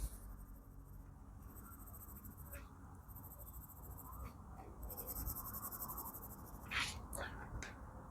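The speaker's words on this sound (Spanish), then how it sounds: "Todo lo estamos haciendo con este mismo lápiz." A 2B graphite pencil scratches steadily across paper while sketching a whale shark, soft close-up strokes continuing throughout with a few sharper scrapes, no talking.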